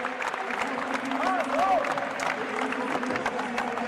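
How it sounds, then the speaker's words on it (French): Crowd applause at a petanque match, France against Italy in the European Championship 2023 final, steady and broad with a commentator talking over it. "Il est très applaudi Ludovic"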